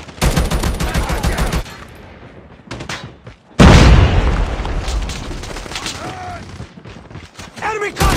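A frag grenade explosion and rapid gunfire in the mobile shooter game Call of Duty Mobile, with bursts of automatic fire, a loud booming blast near the middle followed by a long rumbling decay, then more shots.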